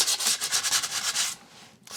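Sandpaper scrubs a scratch-built RC plane canopy in rapid, close rasping strokes, then pauses briefly before one last stroke.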